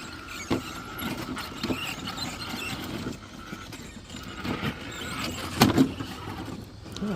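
An SCX6 RC crawler fitted with an FRD-6 transmission runs continuously, its electric motor and drivetrain giving a steady whirring grind. Small clicks and knocks come through the whir, and a brief squeal rises near the end.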